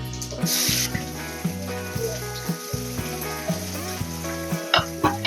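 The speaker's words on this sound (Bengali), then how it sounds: "এখন এটাকে একটু ভালো করে ভেজে নেবো" Bay leaves, cumin seeds and chopped ginger fry in oil over low heat as tempering for a rajma dal, making a soft, continuous close sizzle under steady background music.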